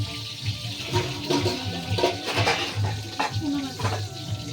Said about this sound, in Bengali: মাসি দেখো বেগুন ভাজা করছে